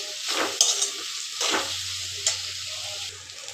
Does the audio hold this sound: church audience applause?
no